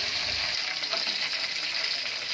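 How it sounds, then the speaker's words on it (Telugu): Chicken leg pieces deep frying in hot oil in a covered pan, giving a steady, even sizzle and crackle at moderate distance with no talk. "జాగ్రత్తగా వేయించుకోవాలన్నమాట"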